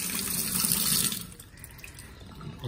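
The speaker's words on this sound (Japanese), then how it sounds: "これはいかんよ、水出しっぱなしじゃん。" Water gushing from an outdoor tap left running, a steady broadband rush that is loud at first, then drops in level and continues more quietly.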